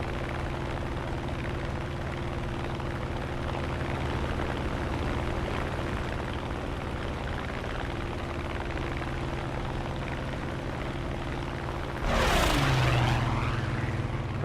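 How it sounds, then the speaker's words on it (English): Continuous propeller drone of a P-47D-28 radial engine running in War Thunder, steady and mid-distance, with a brief louder rushing swell near the end; no speech. "Alright, his engine's still running."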